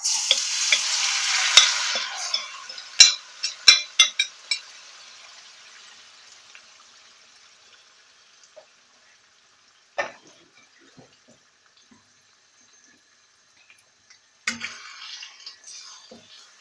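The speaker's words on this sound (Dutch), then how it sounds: "Als je het vlees gemarineerd hebt, dan eh, ga je het in de zonnebloemolie aanbakken." Marinated pork frying in sunflower oil in a pan, a loud sizzle with a few sharp spatters and stirring scrapes early on, then settling to a faint low crackle with occasional pops.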